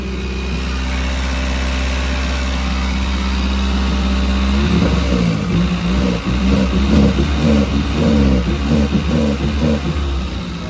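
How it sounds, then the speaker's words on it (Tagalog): A car engine runs at a high idle on a cold start, a steady close drone that gives way partway through to a rougher, pulsing throb, with no talk over it. "medyo mataas ang idle yan eh"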